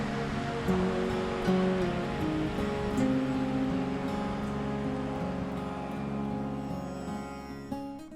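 A strongly flowing small river in Patagonia, a steady loud broadband rush of water that stays continuous and close throughout, with no talk.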